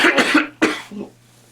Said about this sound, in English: you're gonna see me cough a whole lot in this video